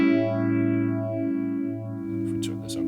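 A sustained guitar chord rings through a phaser with its width turned all the way up, producing deep, sweeping swooshes that rise and fall slowly; a brief burst of louder noise enters near the end.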